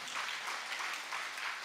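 An audience at a Buddhist dharma talk breaks into applause, a continuous bright crackle of many hands clapping in a room, steady and moderately loud.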